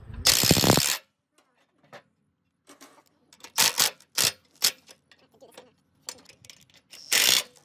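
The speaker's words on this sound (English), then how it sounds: "tighten the sprocket to the drum, going through the hub with the bolts provided" Bolts being tightened to fix a sprocket to a drum while installing an ipaddock Typhoon: short bursts of ratcheting and metallic clicking, close and fairly loud, separated by quiet gaps.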